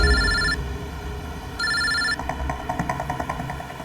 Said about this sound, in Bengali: আর আমি আমানকে ফোন করি